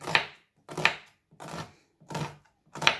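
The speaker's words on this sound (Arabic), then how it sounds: "عندي راسين بصل كبار، أثرمهم باليد" Two large onions chopped by hand with a knife, five crisp separate chops in a slow even rhythm, close and clear with silence between strikes.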